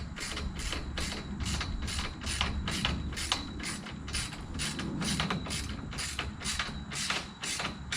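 A ratcheting tool clicks in a steady rapid rhythm, close and continuous, tightening a fastener on the end wall of a backyard greenhouse.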